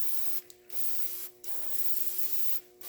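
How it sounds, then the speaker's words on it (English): Bursts of non-chlorinated brake cleaner sprayed from an aerosol can while cleaning an M35A2 front axle knuckle: three short, close hissing sprays over a steady faint background tone, no talking. "what I'm using here this is a non-chlorinated brake cleaner"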